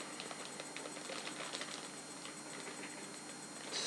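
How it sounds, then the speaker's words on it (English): A plastic bag is handled at close range, giving a faint, steady crinkling and rustling while parts of a Ticket to Ride Europe board game are unpacked. "Struggling with a plastic bag,"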